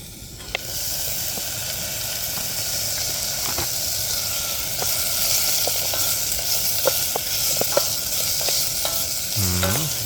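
Tomatoes, zucchini, sausage and leftover spaghetti frying in a pan on a camp stove during a bike tour in Poland, with a continuous close sizzle and hiss broken by scattered clicks and scrapes of stirring.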